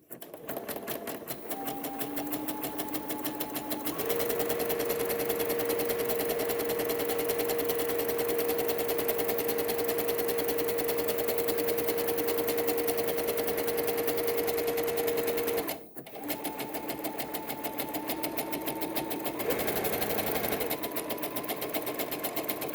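A sewing machine runs a zigzag stitch along the edge of a child's dress, a steady close whir that stops briefly, restarts and carries on for a long continuous stretch, then slows and pauses before a short final run.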